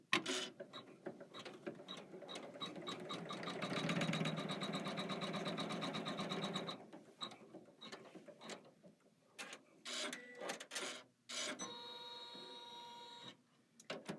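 A Kimberbell embroidery machine stitches a seam, giving a fast mechanical whirring chatter for several seconds, then stopping and restarting in shorter bursts with clicks and pauses, fairly quiet and close.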